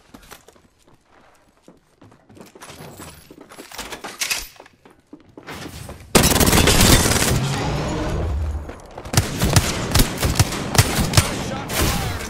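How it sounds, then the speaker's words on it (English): Rapid automatic gunfire in the Apex Legends battle royale video game: sparse shots and footsteps at first, then a sudden loud sustained burst of overlapping shots and impacts that continues in heavy clustered volleys. "Shot fired and they're hitting me."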